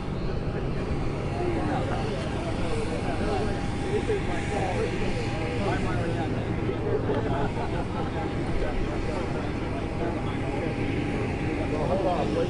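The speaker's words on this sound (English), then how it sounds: "The plane's here, but it's still rolling." Broad steady roar of a plane rolling along the runway after touching down in New Orleans, a constant heavy rumble with a low whine, with crowd babble and voices around it.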